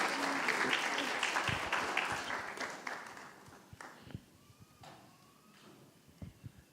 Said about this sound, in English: Let's give Suzanne a round of applause.